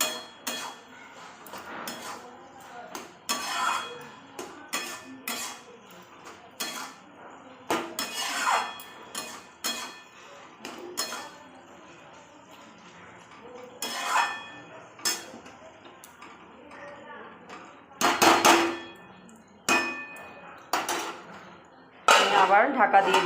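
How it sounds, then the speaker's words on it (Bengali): Metal cooking pot lid lifted and set back down while Bengali bottle gourd curry with masoor dal cooks, a series of sharp clinks and clanks scattered among quieter kitchen sounds, with occasional speech. "আমি ঢাকাটা খুলে দেখছি"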